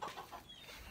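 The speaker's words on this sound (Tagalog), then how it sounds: "Nandito pala yung ating mga sisiw. Ayan po sila, oh." Chicks peep in a backyard, a few soft, faint high chirps in quick succession over a quiet background.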